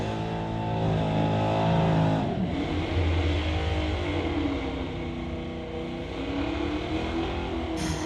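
A car accelerates hard down a drag strip at a street-legal drag event, a loud engine roar climbing in pitch and then fading into a lower drone as the car pulls away, with no talk.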